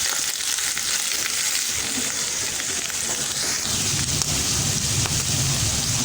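Rinsed, drained mushrooms are stirred in a hot pan, giving a steady, loud sizzle and frying hiss with a rougher scraping texture in the second half.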